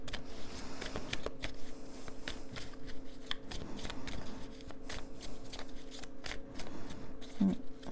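A deck of Botticelli tarot cards is shuffled by hand close up, a continuous soft riffling and flapping with brisk repeated snaps.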